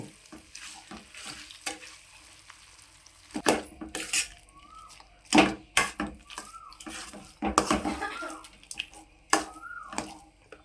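A spoon stirs spiced potato fry with chili powder in a pan, repeated scraping clanks against the metal over a soft sizzle, irregular strokes close and clear.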